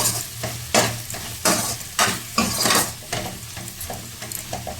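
Okra curry frying in a pan while a spoon stirs it, with a steady sizzle and a series of loud scraping strokes at an irregular pace.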